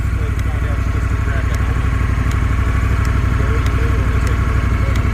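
A Honda Africa Twin motorcycle engine idles steadily and close by, a continuous low rumble with a faint clatter running through all five seconds.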